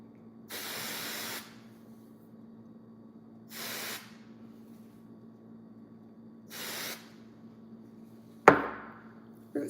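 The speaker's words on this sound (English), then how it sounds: "Root spray, I love root spray." Three separate bursts of hair root spray from an aerosol can, each a close, steady hiss lasting about a second, with quiet gaps between them, followed by a sharp knock.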